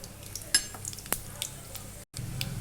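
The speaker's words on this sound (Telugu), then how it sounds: "ముందుగా నూనె పోసుకొని పోపు దినుసులు వేసుకున్నాం" Tempering spices crackle and sizzle in hot oil, a steady frying hiss broken by a few sharp pops and a brief stir.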